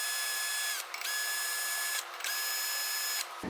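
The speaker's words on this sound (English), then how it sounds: "Now we'll take out these bottom 3 screws." A power driver backs screws out of the bottom of a circular table base, a steady high whir running in three long bursts separated by brief pauses, close and fairly loud with no talking.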